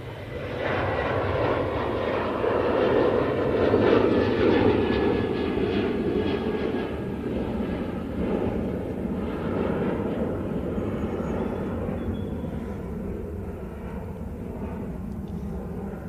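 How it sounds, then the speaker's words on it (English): A TUI Boeing 787-9 Dreamliner takes off from Manchester Airport bound for Montego Bay, a broad, rumbling jet roar that swells to a peak early on, then holds and slowly recedes into the distance. "With this TUI going off to Montego Bay using 787-9 Dreamliner."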